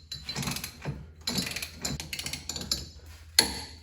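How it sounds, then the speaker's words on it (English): A ratchet-style torque wrench clicks in quick uneven bursts while tightening an inner tie rod on a Ford Mustang, close up with short pauses between strokes and a sharper metallic snap near the end. "then we'll torque it on"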